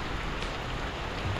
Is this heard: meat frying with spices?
no